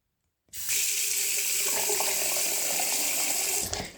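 Water runs steadily from a tap in an abandoned house, starting abruptly and gushing loud and close for several seconds, a continuous bright hiss with no voices.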